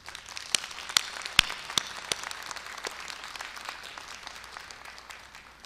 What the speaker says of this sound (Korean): 축하의 박수를 보내주시면 어떨까요?